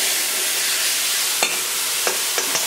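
A little water hits a hot pan holding langoustines, raising a loud, steady hissing sizzle from start to finish, with a few sharp clicks of a utensil near the end.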